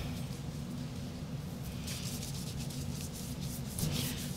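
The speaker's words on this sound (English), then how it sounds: "brush the paint out." A brush works paint across paste paper in a steady, continuous scratchy rubbing, close and soft, with slight strokes picking up near the end and no voices.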